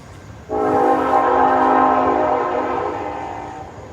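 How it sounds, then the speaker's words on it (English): A passing train sounds one long, loud horn blast of about two and a half seconds that rises abruptly and then fades, heard from a home garden over a low background rumble. "I hate the train."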